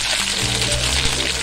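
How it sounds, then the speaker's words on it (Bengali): Coconut, cashews and raisins frying in ghee and mustard oil, a steady close-up sizzle and crackle with low bubbling underneath. "নারকেল, কাজু বাদাম ও কিশমিশ হালকা ব্রাউন করে ভেজে তুলে রাখবো"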